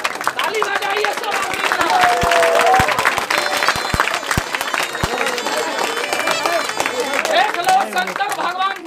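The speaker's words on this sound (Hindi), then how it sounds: "ताली बजाइए सब।" A crowd at an outdoor snake worship gathering claps hands loudly and continuously in a dense, steady patter, with a voice and crowd chatter mixed in.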